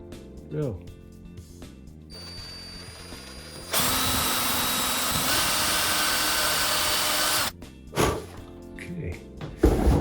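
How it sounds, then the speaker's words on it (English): A power drill whirs loudly for a few seconds, starting and stopping abruptly, with a voice talking briefly before and after. "Drill."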